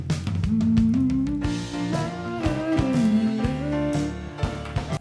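A short music sample plays with a drum kit after the drums were tuned. Regular drum hits sit under a sliding, gliding melodic line, and the mix stays steady and full throughout.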